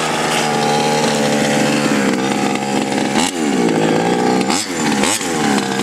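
A 1/5 scale RC car's two-stroke engine buzzes loud and close, holding a high droning whine with several sharp revs and dips in pitch.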